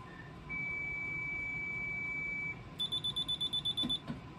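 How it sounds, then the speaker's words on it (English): A DSC PC2550 alarm system keypad gives a steady tone for about two seconds, then a quick run of about nine short, bright beeps as the exit delay starts, close and clear in a quiet room. "you'll hear the keypad beep and the exit delay will start"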